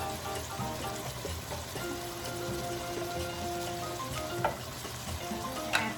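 Tomato sauce goes into a mixture of rice with ham and seafood frying in a pan, giving a steady close sizzle with crackling pops and light stirring scrapes and no talking.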